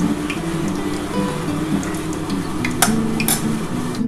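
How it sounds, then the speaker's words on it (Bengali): Semolina sweets frying one at a time in hot oil: a steady, close sizzle runs throughout, with a few light clicks from a utensil touching the pan. "এবার আমি একটা একটা করে ভেজে নিচ্ছি, আমার তেলটা কিন্তু গরম হয়ে গেছে"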